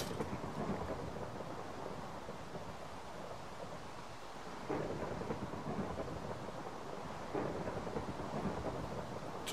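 Thunder from lightning in Minecraft rolls and rumbles steadily over a rain-and-wind wash, with two heavier rumbling swells partway through, loud and sustained, no voices.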